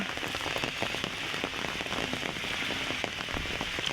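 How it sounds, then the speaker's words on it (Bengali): Heavy rain falls outdoors near marshy open land, a steady dense patter of drops striking surfaces, with sharp individual splats close by throughout, loud and continuous without talk. "বৃষ্টি নিয়ে পড়েছে, আবার অনেকটা বৃষ্টি দেখতেই পাচ্ছেন আপনারা।"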